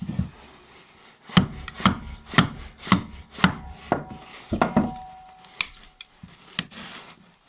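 A full-tang knife batons through a knotty birch log in freezing wilderness cold, with roughly a dozen sharp, woody knocks and cracks in an irregular rhythm, close and clear, with quiet pauses between strikes.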